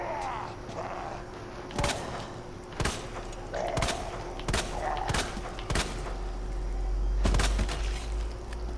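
Gunfire in the Resident Evil 2 one-shot demo, a series of sharp single shots spaced a second or so apart, loud and close over game ambience, with a low rumble near the end.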